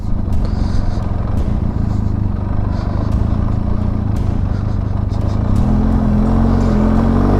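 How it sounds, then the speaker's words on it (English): Car passing on the steep, narrow Hardknott Pass, a loud close engine drone building and rising in pitch near the end. "Oh, car."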